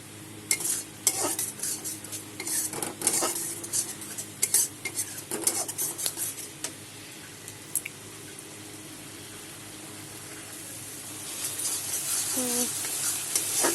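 Sour curd and spices being stirred and sautéed in a pan, with busy spatula scraping and metal clinks over a sizzle for several seconds, then a quieter steady hiss near the end.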